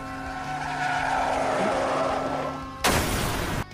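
An animated scene of a truck skidding toward a pedestrian: a long, loud tire screech with engine noise, then an abrupt harsh burst of impact noise near the end.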